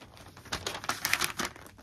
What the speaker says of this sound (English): So I'm just gonna open. It has a silver foil tape.